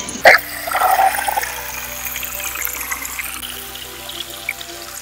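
Water trickles and pours into a container at a village source in Darhal, Jammu and Kashmir, beginning with a sharp knock, then a steady close dribble that gradually quiets.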